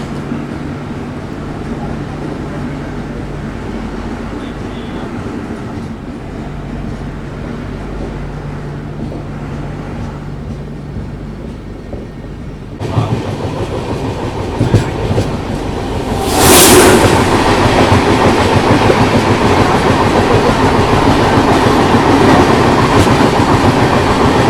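A KSR Bengaluru to MGR Chennai Central double decker express runs on its rails with a steady low rumble and rhythmic clatter that grows suddenly louder partway through and stays loud and close to the end.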